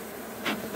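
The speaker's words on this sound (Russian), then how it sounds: "а тут пчел много" Many honeybees buzz at a beehive during pollen collection, a dense continuous hum close by with a brief louder swell as insects pass near.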